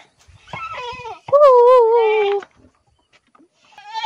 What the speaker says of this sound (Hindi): ये बकरी बहुत ही ज्यादा हल्ला कर रहा है